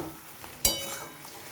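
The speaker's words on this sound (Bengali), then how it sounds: "এইভাবে আমি কিছুক্ষণ নেড়ে করে ভেজে নিই" Tomato pickle frying in a pan while being stirred gives a faint, soft sizzle, broken by a single sharp clink of the utensil against the pan.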